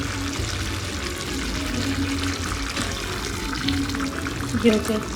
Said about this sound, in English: we're gonna add some water now to the pot